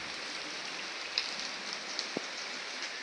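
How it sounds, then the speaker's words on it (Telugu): Steady light rain falls outside a hill-country stay in Coorg, a soft continuous patter with a few distinct drops, faint and even throughout, with no voices. "కొంచెం వర్షం పడకపోతే బాగుంటుంది, కానీ వర్షం పడితేనే ఈ నేచర్ కూడా బాగా తెలుస్తుంది"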